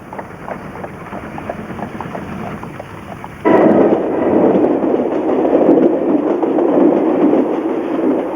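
An Indian train runs along the rails with a steady low rumble that jumps abruptly louder and harsher partway through, then holds at that heavier roar to the end, with no voices.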